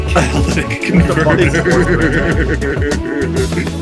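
A horse neighs in a video game, its whinny mixed into a busy game soundtrack with someone talking over it.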